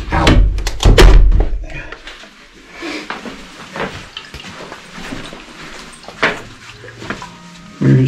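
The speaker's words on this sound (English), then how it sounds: "You can shut the door." A door swings shut with a heavy thunk in a house in Marrakesh, Morocco, followed by quieter knocks and shuffling nearby.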